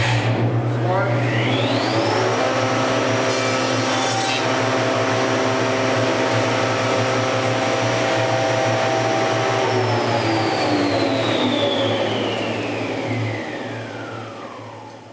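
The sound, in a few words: PanelMASTER IV panel saw making a cut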